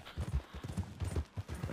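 Horse hooves clip-clopping in the Red Dead Redemption 2 video game, a steady, rhythmic series of close, thudding hoofbeats at a walking pace.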